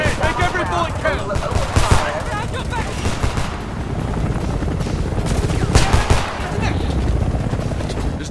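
Gunfire from the 2011 first-person shooter Homefront, with dense, continuous bursts of automatic weapons fire and sharp impacts over an ongoing battle din, while voices shout in the background.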